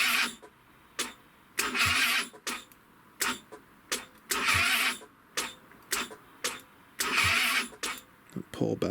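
A GY6 engine on a Chinese Longjia scooter cranks over on a weak, worn-out battery in a series of short, labored starter bursts separated by pauses, loud and close.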